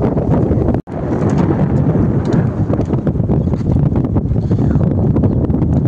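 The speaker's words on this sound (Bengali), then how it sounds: "এত হাওয়া হচ্ছে" Strong wind at Jharkhali in the Sundarbans buffets the microphone in a loud, continuous roar, with gusty surges throughout and a single brief dropout near the start.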